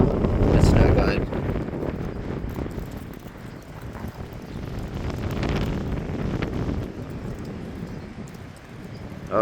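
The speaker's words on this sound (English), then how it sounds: "there's another monster gust of wind down there" Strong storm wind gusts roar and buffet the microphone in a continuous broadband rush, surging louder early on and staying heavy throughout, with a voice talking faintly underneath.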